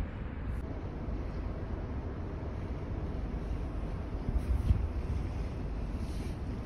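Steady wind buffeting and a low rumbling engine and water wash aboard a cruise ship under way in freezing sub-zero cold, continuous and unbroken with no talking.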